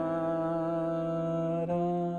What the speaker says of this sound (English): I love when I have the 3rd in the melody and it's a major 7 chord to add the sharp 5.